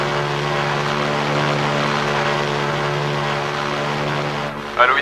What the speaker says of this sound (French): L'appareil situé sur la piste numéro 3 est prié d'attendre le décollage.